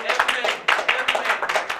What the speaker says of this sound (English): Another round of applause for that man.